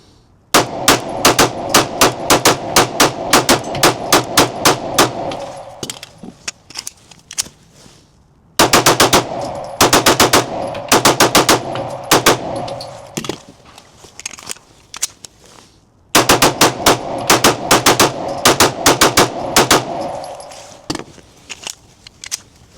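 A Glock 45 pistol fitted with a Radian Ramjet fired in three rapid strings, each a fast run of loud, sharp gunshots followed by trailing shots and brief pauses between magazines.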